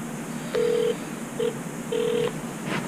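Phone line tones during a call attempt: three steady electronic beeps, a long one, a short blip and another long one, clear and close over faint line hiss.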